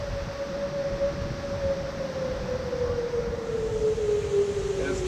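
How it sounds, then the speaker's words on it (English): A steady, wailing tornado siren tone holds over a constant low rumble during a powerful storm, slowly dropping in pitch as it sounds from a distance. "That's tornado siren."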